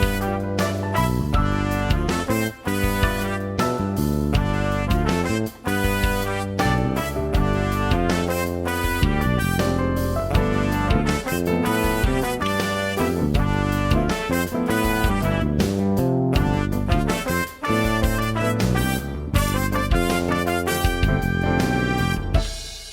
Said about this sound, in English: the horns and the rhythm section sounds like this